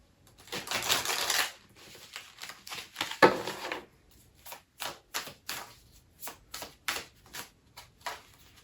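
A deck of tarot cards being shuffled by hand: a long riffle, then a string of short, crisp card slaps and flicks at a steady rhythm, close and fairly loud with no talk.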